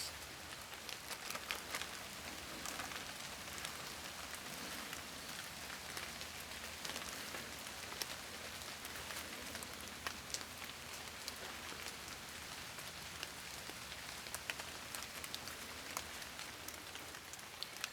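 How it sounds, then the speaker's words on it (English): Steady rain falls continuously, a dense hiss of drops pattering on surfaces nearby, with scattered sharper taps and no voices. "typically when it's raining like this"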